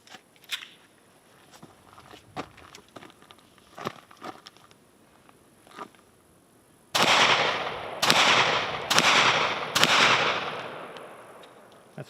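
A Kel-Tec PMR30 pistol fires four sharp, loud shots in quick succession, each crack ringing out with a short echo after a stretch of quieter handling clicks.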